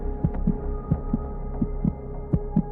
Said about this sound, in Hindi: दिल तेजी से धड़कने लगा